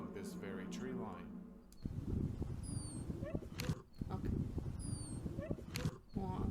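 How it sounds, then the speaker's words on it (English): A dog whimpers in distress in a haunted horror game setting, giving thin, high squeaking whines in short bursts over steady background noise and a talking voice. "this whimpering sounds much like a dog in distress"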